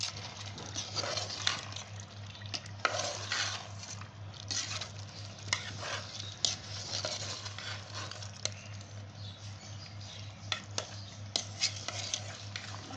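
Thick-cut potato pieces being stirred into minced meat frying with spices in a pan, giving a steady low sizzle under repeated scraping and clinking of the spoon against the pot, with no talking.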